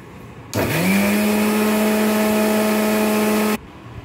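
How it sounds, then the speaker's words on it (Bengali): A kitchen blender whirs up Oreo cookies with creamy milk, the motor starting abruptly, holding a loud steady whine for about three seconds, then cutting off. "এবার এটাকে ব্লেন্ড করে নেব আমরা।"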